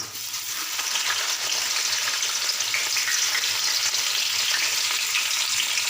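Steady, loud frying sizzle of onions cooking in hot oil, a continuous crackling hiss with no talking.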